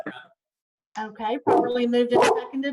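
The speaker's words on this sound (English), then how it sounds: "my dog has seen something out the window and is having an attack about it." A dog barks excitedly at something seen out a window during an online planning commission meeting, several sharp barks in a burst, loud and close, mixed with a person speaking.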